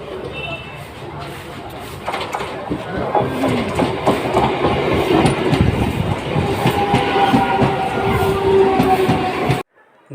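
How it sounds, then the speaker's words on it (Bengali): A local train slowing as it enters Bongaon station on a turning approach, with steady close rumbling and rhythmic wheel clatter throughout, continuous talk over it, and a brief cut near the end. "দেখুন বনগাঁ স্টেশনে যখন ঢুকছি, তখন গাড়িটা স্লো করে দিয়ে টার্নিংয়ে মুখে আস্তে আস্তে গাড়িটা ঢুকছে"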